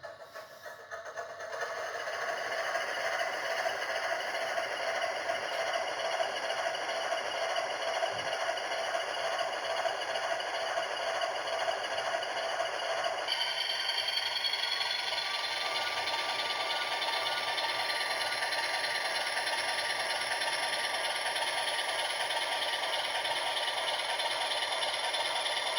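A small motor in an HO scale Pennsylvania Centipede model locomotive starts up and runs slowly, with a steady, faint whirring hum and light rattle that holds even for about twenty-five seconds.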